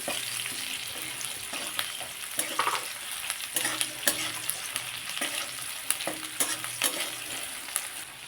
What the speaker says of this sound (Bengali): একটু লবণ দিয়ে দিলে পেঁয়াজটা তাড়াতাড়ি ভাজা হয়ে যাবে